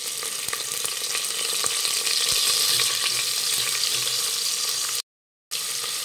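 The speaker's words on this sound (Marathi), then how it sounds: "कांदा व्यवस्थित भाजून घेऊयात।" Thinly sliced onion sizzling in hot oil with a pinch of asafoetida for brinjal rice, a loud continuous frying hiss with occasional stirring clinks and a short silent gap near the end.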